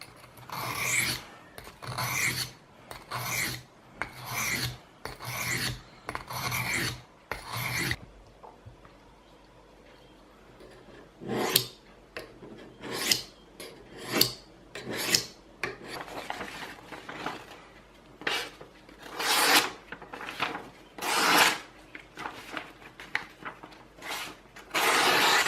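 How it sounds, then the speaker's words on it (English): Victorinox Spartan pocket knife blade drawn across a sharpener in repeated rasping strokes, a quick burst of even strokes, a pause, then slower irregular passes, close and fairly loud with no talk. "I'm just going to sharpen it up now"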